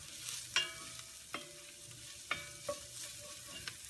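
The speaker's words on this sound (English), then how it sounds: "The red pepper flakes and the cumin. We'll just give that a little stir." A spoon clinks and scrapes against a soup pot while red pepper flakes and cumin are stirred in, giving several light metallic taps over a soft background, fairly quiet and with no voices.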